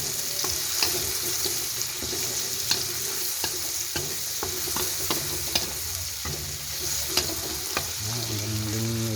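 Garlic frying in oil until golden brown, a steady close sizzle broken by frequent light clicks and scrapes of a utensil stirring in the pan.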